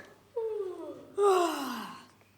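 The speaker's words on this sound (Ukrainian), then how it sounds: "Трохи позіхаю." A theatrical performer in a nativity vertep play gives two drawn-out, falling vocal yawns, one after another, close and fairly loud with a breathy, moaning tone and no spoken words.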